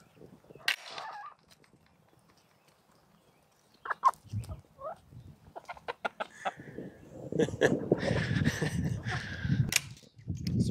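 Backyard chickens cluck and squawk beside a chicken coop, scattered calls at first, then a busier, louder stretch of overlapping clucking near the end.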